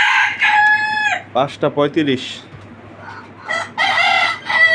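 At dawn on a farm with local free-range chickens, a rooster crows loudly nearby twice, with clucking between calls and a steady fan hum underneath; a voice briefly speaks.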